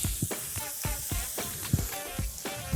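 Meat searing in a very hot pan, a loud continuous sizzle with repeated sharp crackles and pops at an uneven rhythm, close up.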